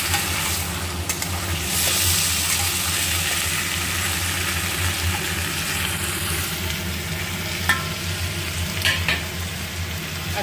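Fried prawns and pointed gourd are sautéed in a pan with a continuous close sizzle and steady stirring. A low, even hum runs underneath throughout.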